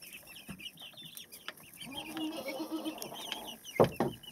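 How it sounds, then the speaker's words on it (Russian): Brakel chickens cluck and murmur close by, a busy stretch of soft low clucking with a couple of sharper calls near the end and scattered chirps in the background. "Брекели своеобразные птицы."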